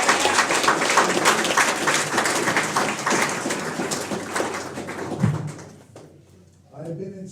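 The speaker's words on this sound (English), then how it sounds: "Let's give everybody a round of applause." Group applause at a meeting celebrating decades of service, several seconds of lively clapping from a room of people that fades out, followed by a brief murmur of voices.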